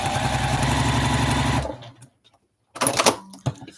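Sewing machine stitching steadily and loudly for about a second and a half, then stopping abruptly when the bobbin runs out; a short pause follows before faint clattering handling sounds.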